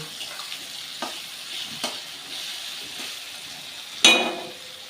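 Spiced dried fish fries with onion in a pan, a soft even sizzle broken by several stirring scrapes and one sharper clatter near the end, with no voices.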